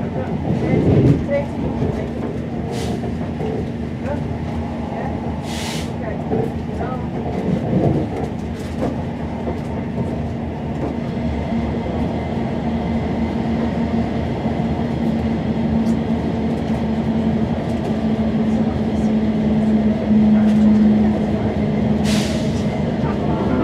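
A passenger train on the Heart of Wales line runs into Newport station, with a continuous rumble, a steady low hum, and occasional clanks and hisses throughout.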